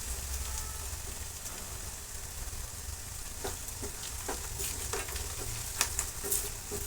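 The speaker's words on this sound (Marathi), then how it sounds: "त्याच्यामध्ये जिरे टाकून घेणार आहोत." Cumin seeds sizzle in hot oil on a lowered gas flame for Kolhapuri-style kanda poha, a steady close hiss with scattered sharp crackles and pops that grow busier toward the end.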